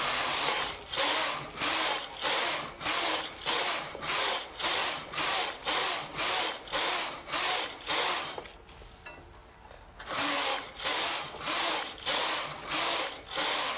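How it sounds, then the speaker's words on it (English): Knitting straight rows on a knitting machine for a circular skirt: a loud, regular ratcheting clatter as the carriage sweeps back and forth in repeated strokes, with a brief quieter pause before the passes resume. "I will knit the number of rows of straight knitting my pattern calls for"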